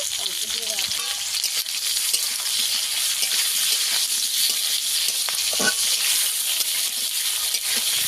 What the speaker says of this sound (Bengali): টমেটো দিয়ে দেবো, আবারও কিছুক্ষণ ভেজে নেব